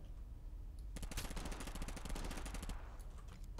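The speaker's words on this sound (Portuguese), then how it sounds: "Deu uns tiros, deu uns tiros, deu uns tiros." Rapid bursts of automatic gunfire in the video game Totally Accurate Battlegrounds crackle in a sustained volley for about two seconds, quiet and somewhat distant, over a low background hum.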